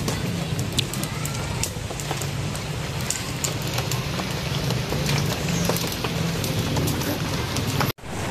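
Steady rain falls outdoors while a 55-kilo pig is roasted as lechon, a dense continuous patter filling the scene with little break until a brief cutoff near the end.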